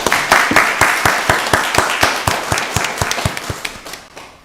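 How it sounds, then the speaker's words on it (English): An audience at a county board of commissioners meeting gives a round of applause, a dense rhythmic clapping close by that slowly fades out over about four seconds. "Let's give him a round of applause."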